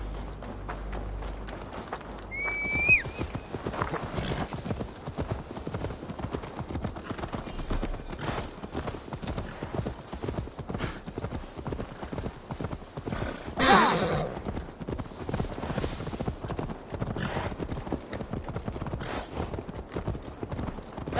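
Horse hooves clip-clop steadily and continuously in Assassin's Creed Valhalla, with a brief neigh near the start and a louder hoof flurry midway, over a busy background.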